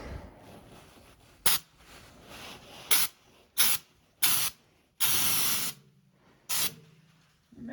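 A spray gun applies uPol Raptor tintable bed liner to a 1976 Ford Bronco in a series of short, loud hissing bursts of varying length, with a low background hum between passes.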